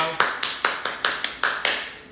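Sharp, evenly spaced hand claps, about eight in quick succession, each ringing briefly in a reverberant room, sounding like one or a few people applauding in steady rhythm.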